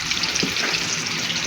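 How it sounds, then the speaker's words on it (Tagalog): Steady broadband sizzle and hiss of coated chicken wings frying in hot oil, close and continuous, with no talking. "Tapos na po namin i-coat yung chicken wings. Iprito na lang po."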